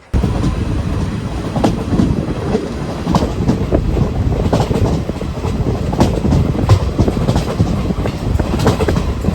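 A Kottayam–Kollam passenger train rolls steadily and loudly at close range, with continuous clickety-clack wheel rhythm and rumbling carriages throughout, and no voices.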